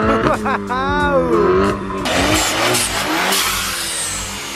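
A car revving hard at a drag racing event, its loud engine climbing and surging up close, with tire noise and excited voices chattering over the roar.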